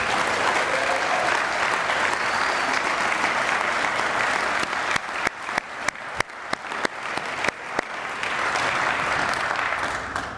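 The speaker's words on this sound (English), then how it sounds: "Special round of applause for the great class of 1969 here celebrating their 50th reunion" Reunion crowd honoring the class of 1969 at their 50th, dense applause that briefly breaks into a few distinct individual claps in the middle before swelling back to full, steady clapping.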